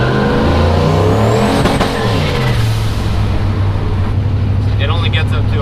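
A turbocharged LS-swapped Chevrolet S-10 truck drives along with a loud, deep engine note that rises and falls through its revs, heard from inside the truck while people talk over it.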